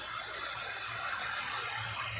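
Tap water runs steadily into a bucket, a constant broad rushing splash with a faint low gurgle beneath as the bucket fills, close and uninterrupted.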